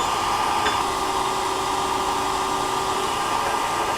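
A Bench-Source annealer runs steadily while annealing 300WM brass cases, giving a continuous even hiss and whir like a blower with a torch flame, with a faint tick near the start and a brief click at the very end.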